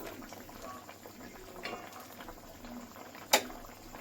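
A thin Bengali bata fish curry with okra simmers in a pan, a steady soft bubbling close by, with one brief sharp clink of metal near the end.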